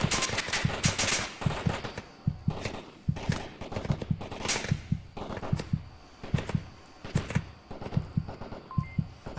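Repeated bursts of automatic gunfire crack close by during a virtual-reality shooter firefight, as an enemy player lays down suppressing fire on a building, in rapid uneven volleys.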